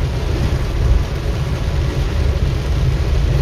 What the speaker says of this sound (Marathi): बघा कसा पाऊस आहे